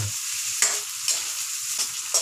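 Meatballs sauté in a hot pan, giving a steady close sizzle with a few sharper scraping stir strokes at regular intervals and no voices.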